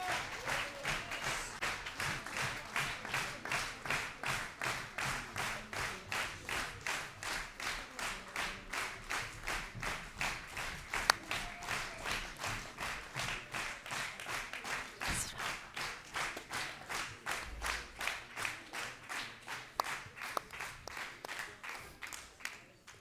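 An audience applauds after an outdoor dance show at the Montmorency brickworks, with steady, rhythmic clapping that builds into near-unison beats and keeps going without a break, loud and close.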